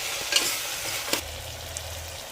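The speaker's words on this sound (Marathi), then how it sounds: "आता यामध्ये मी घालणार आहे टोमॅटो आणि टोमॅटो पण 1-2 मिनिटं मी परतून घेणार आहे।" Chopped tomatoes and browned onions sautéed in a pan give a constant sizzle and frying hiss with a couple of sharp stirring scrapes, close and steady, with no talk.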